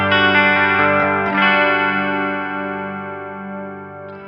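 Electric guitar on a bridge humbucker played through a Line 6 Metallurgy amp with chorus, a few clean sustained chords ringing out and slowly decaying with a shimmering warble, close and fairly loud with nothing else over it.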